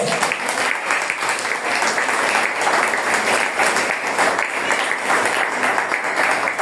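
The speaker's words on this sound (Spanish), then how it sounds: "Dale palmas a Dios." A church congregation applauds during a sermon, a steady, dense wash of many hands clapping together at close range that holds for several seconds without a break.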